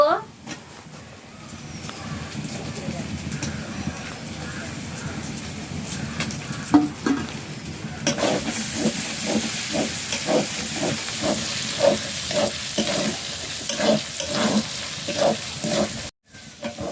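Tomatoes and spices fry and sizzle in a pan for a Dehati-style chicken curry, with a steady hiss and a run of scraping stirs in the second half, a voice talking over it throughout.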